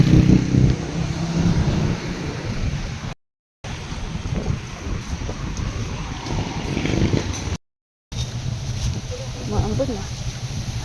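Strong wind roars outdoors in Tacloban as drizzle sets in, a loud, continuous broadband rush buffeting the microphone, broken by two brief silent gaps.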